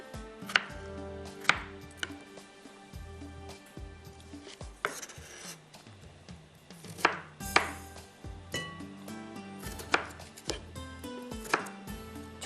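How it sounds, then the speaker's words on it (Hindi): A knife chops food into small pieces for a dum anda pulao, giving close, sharp, irregular thuds and taps on a cutting board that come in quick bursts with brief pauses between them. "छोटे छोटे मैंने टुकड़े कर लिए"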